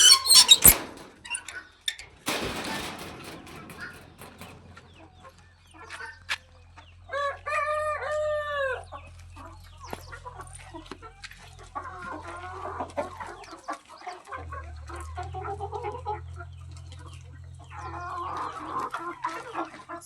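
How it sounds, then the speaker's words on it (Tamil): Native country chickens on a farm, with a rooster crowing and hens clucking at moderate distance under a low steady hum, plus scattered bird calls across the whole stretch. "இதுதான் நம்மளோட நாட்டுக்கோழி."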